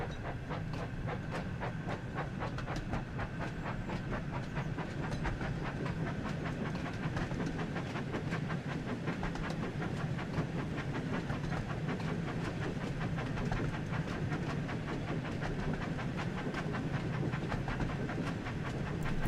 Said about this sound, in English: The sound of steam engines will always make me happy.